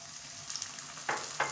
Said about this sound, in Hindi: अदरक लहसुन का पेस्ट डालने के साथ हम इसमें थोड़ी सी आंच कम कर देंगे और अच्छे से इसको भून लेंगे